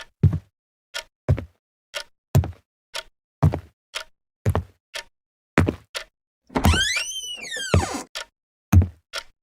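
Sharp, evenly spaced knocks on a wooden door, about a dozen close and loud thuds in a slow steady rhythm, broken midway by a long creaking door swinging open, in a Hindi thriller story sound effect.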